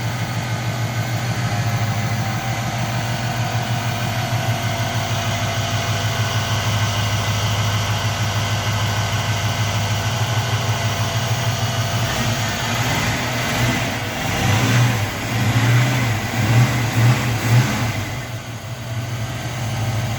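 A 1953 GMC panel truck fitted with a crate LT1 engine idles steadily and smoothly, close and loud, with a few light revs near the end and no talk over it.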